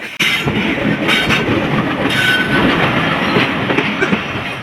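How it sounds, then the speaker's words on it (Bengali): Local train on the Faridpur line rolling into a station platform, a loud, continuous rumble and clatter of wheels on rails with faint squeals, no speech. "ফাইনালি ট্রেনটি কিন্তু ঢুকে পড়ছে আর এই ট্রেনটি তিন নম্বর লাইনে ঢুকছে"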